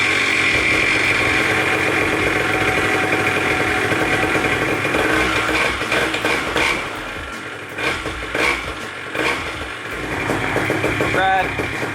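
A paramotor engine runs at a steady idle, loud and close, with a buzzy continuous drone that dips slightly and recovers toward the end.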